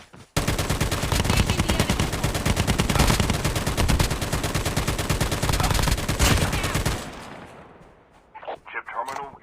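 Sustained rapid gunfire from a weapon in a Call of Duty match, loud and dense for about seven seconds of repeated shots, then cutting off into quieter game sounds and brief talk near the end.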